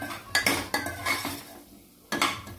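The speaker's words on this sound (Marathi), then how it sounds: "हळद। भाज्या मसाला सगळं मिक्स आपण व्यवस्थित परतून घ्यायचंय" A utensil scrapes and clinks against a pan as vegetables are stirred with turmeric, biryani masala and vegetable masala for veg pulao, giving about five close, distinct strokes with brief pauses between them.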